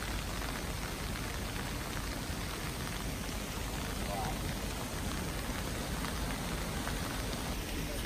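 Heavy rain falling steadily at a mudslide disaster scene, a dense constant hiss at moderate level with no pauses.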